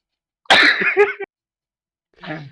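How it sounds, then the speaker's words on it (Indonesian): A loud, harsh cough burst lasting under a second, followed after a pause by a softer, shorter cough. "aku pengen batuk dulu sumpah"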